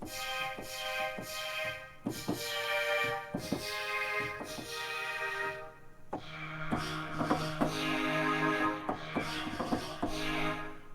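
Synthesizer patch meant to imitate a cat's voice: a run of buzzy, harmonic-rich notes with quick attacks, played in short phrases and shifting pitches, fairly loud and alone.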